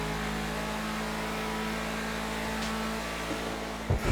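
An Obey Tailgater S car engine in GTA 5 drones at a steady pitch from inside the cabin, holding constant before a brief thump near the end.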